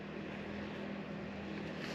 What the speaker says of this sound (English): Riding on the tractor gets them every time